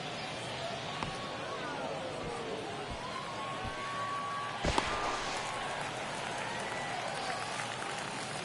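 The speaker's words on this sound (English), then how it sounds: "the crowd just started cheering because they knew it was going to be a base hit" Stadium crowd in MLB The Show 24 baseball game cheering steadily for a base hit, a dense sustained roar with a brief swell midway, while a voice talks over it.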